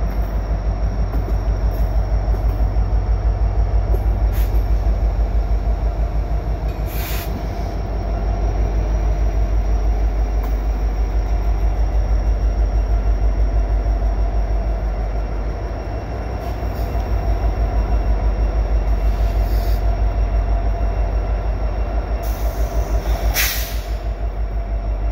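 CN freight train led by two SD70M-2 locomotives passing at Lasalle Blvd Bridge, a loud steady low rumble of cars rolling by for the whole stretch, with faint wheel clicks and a few sharp squeals.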